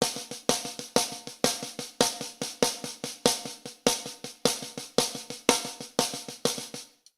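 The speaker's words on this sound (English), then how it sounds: "So here we're playing a triple stroke roll," A drum played in a triple stroke roll, right then left then left. Crisp, close strokes fall in steady groups of three and repeat evenly without a pause, with no talking.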